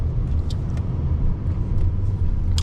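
Low steady rumble of a 2006 Pontiac Grand Prix engine running while driving, heard from inside the car with road noise, constant and fairly loud, with a few faint clicks above it.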